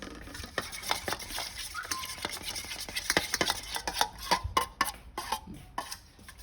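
Oregano and garlic being stirred together as a seasoning for Goan lobster with garlic and herb butter, heard as a steady run of close, light spoon scrapes and taps against a bowl.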